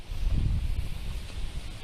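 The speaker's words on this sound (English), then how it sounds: "we're getting a huge gust of wind right now, Heather." A strong gust of wind during Hurricane Florence, a short loud rumbling buffet hitting the microphone, heavy and low, lasting about two seconds.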